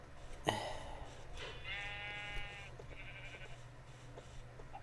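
In Minecraft, a sheep gives a single wavering bleat, fairly close and clear, after a short sharp click, with a quieter second bleat following over a faint steady background hum.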